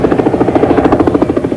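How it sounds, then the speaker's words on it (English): A police helicopter over the Los Angeles riots at Florence and Normandy, a loud, close, steady rapid rotor chop with a droning engine, alone without talk. "decide to dispatch a helicopter to assess the area"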